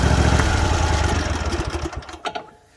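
A Murray riding lawn mower engine running loud and close, a steady idle chug that breaks into uneven pulses and sputters as it winds down near the end.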